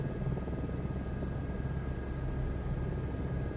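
Steady helicopter engine and rotor drone from a flight simulator, a continuous broadband roar with thin high whine tones, flying at high altitude near the craft's limits; no voices.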